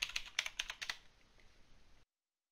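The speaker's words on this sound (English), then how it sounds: "just click and type in the password" Password typed on a computer keyboard to log into a Windows 8.1 virtual machine: about a second of quick, crisp, close key clicks in a brisk run, then fading to quiet hiss before the sound cuts off.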